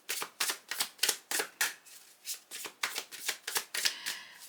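Tarot cards shuffled and handled at close range: a rapid run of crisp, papery riffles and flicks in a steady rhythm, with no one talking.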